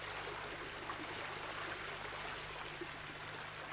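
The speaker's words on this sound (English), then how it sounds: "And this is the rising, the point where the river reappears on the surface." A limestone river wells back up to the surface at its rising, giving a steady, broad rush of flowing water that stays even throughout with no voices.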